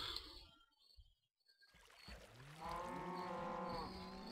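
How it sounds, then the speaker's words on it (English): A cow lets out a long, drawn-out moo inside a barn holding about six cattle, rising over a hollow, echoing background after a brief near-silence. "It's only about 6 cows in there, they make a heck of a racket"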